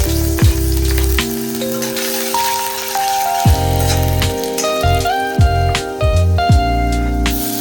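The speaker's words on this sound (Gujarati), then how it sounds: "થોડુંક જ તેલ લેવાનું છે, તેમાં આપણે આદુ, લસણ, મરચાં એડ કરી દઈશું।" Ginger, garlic and chillies frying in a little oil in a kadai, giving a steady close sizzle with scattered pops and rattles of stirring; several tonal clinks sound throughout.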